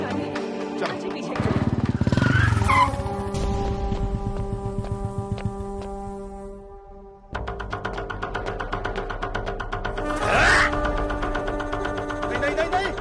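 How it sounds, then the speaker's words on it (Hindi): A motorcycle starts and pulls away, its engine buzzing and revving in two loud bursts with a brief lull between, while people speak over the noise. "बाइक चला दी"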